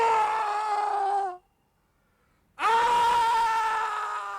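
A long, anguished scream in a dramatic film scene from The Godfather Part III, loud and sustained, cut off by a second of silence before a second loud wail begins.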